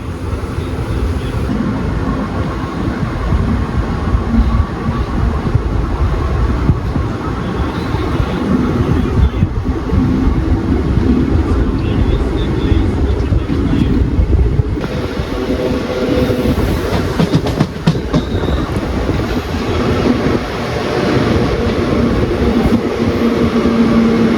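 A Tirunelveli–Jamnagar Express train, heard from a sleeper-class coach, rumbles steadily along the tracks, loud and continuous, with rhythmic rattling of carriages and occasional metallic clatter throughout.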